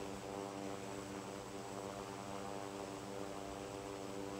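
Airliner engines drone steadily in the flight simulator Infinite Flight on a short hop from Vienna to Innsbruck over the Alps, a constant loud cabin hum with layered tonal buzz and no speech.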